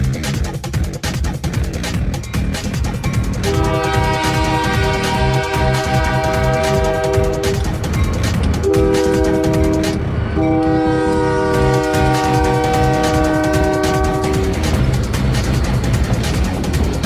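A train passes along railroad tracks in Anaheim, loud and close, with a steady rumble of cars and a long horn sounding in several sustained blasts throughout.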